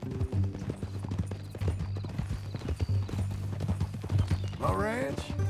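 Horse hooves clip-clop steadily in Red Dead Redemption 2, a repeating rhythmic beat under a constant hum and game ambience, with a brief whinny-like sweep near the end.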